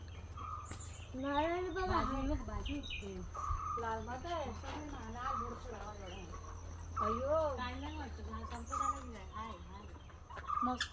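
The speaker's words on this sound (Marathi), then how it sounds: "नुसते पक्ष्यांचाच आवाज आहे" Birds chirping and clucking close by, steady and busy throughout, with a thin insect-like buzz running high in the background.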